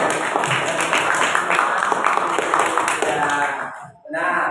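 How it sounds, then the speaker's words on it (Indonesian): A classroom group claps in a quick, steady burst of applause for a correct answer, loud and close, then stops abruptly with a brief pause before more sound. "berikan aplaus untuk jawaban"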